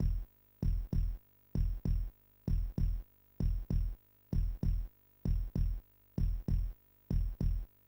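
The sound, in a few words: heartbeat speeding up in a god video game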